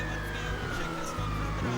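A video game police car siren wails steadily over a rumbling engine and background noise, with voices talking faintly beneath it.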